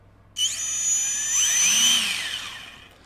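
A high-pitched RC car brushless motor with a Castle Sidewinder 4 speed controller whines and revs up, holding a steady screaming tone before winding down, loud and close.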